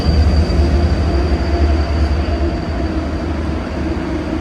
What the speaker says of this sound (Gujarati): ટ્રેન જો અહીંયા લખી છે કે 4 નંબરની આવશે.